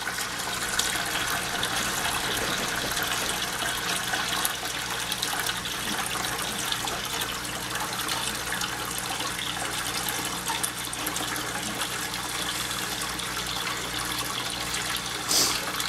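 A bucket fills from a running tap during a reef aquarium build, the steady gushing water continuous and fairly loud throughout, with no talk over it.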